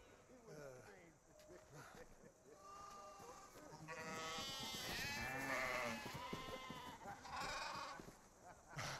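Sheep bleating in a film scene about shepherds, several wavering bleats overlapping through the scene under and between spoken dialogue.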